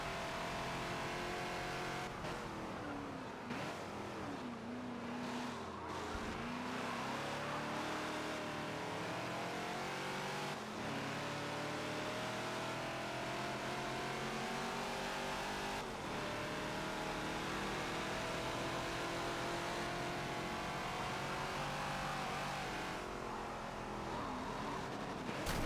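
A Ford Falcon XB in a Forza racing game runs hard around the Sonoma track, a steady loud engine roar at full throttle with shifting pitch, brief lifts and tire noise, no talk.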